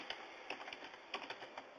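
Code typed on a computer keyboard: a quick run of soft, close key clicks in an irregular rhythm, faint and steady, with no voices.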